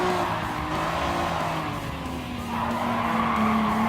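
A car in Gran Turismo Sport brakes hard and slides through a turn in an N300 JDM race at Suzuka Circuit East. The engine note drops and then climbs again under a loud, steady tire squeal, with no talk.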